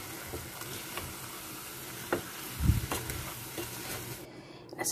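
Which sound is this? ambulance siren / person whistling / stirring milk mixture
stirring milk mixture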